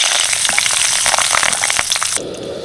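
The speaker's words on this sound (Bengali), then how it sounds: "কারি পাতাগুলো তেলের মধ্যে দিয়ে সঙ্গে সঙ্গে তুলে নিতে হবে।" Curry leaves dropped into hot oil, a loud crackling sizzle with sharp spits and pops for about two seconds, then the frying suddenly drops to a softer, steadier hiss.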